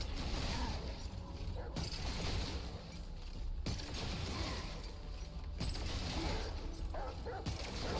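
An enemy dog in the Remnant video game barks and whimpers among mechanical creaks and clanks, with a busy, noisy game mix continuing underneath.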